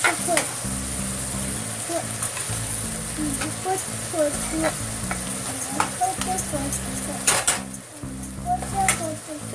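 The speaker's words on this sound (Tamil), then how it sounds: "இது வந்து வெங்காயம் வதங்கிட்டு இருக்குது இன்னும் கொஞ்சமே நல்லா ரோஸ்ட் ஆகட்டும்" Chopped onions sauté in a pan for a vegetarian biryani, giving a steady, close sizzle broken by frequent scraping stirs, with a low continuous hum running underneath.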